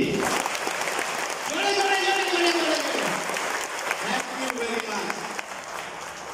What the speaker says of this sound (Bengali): জোরে হাততালি দিন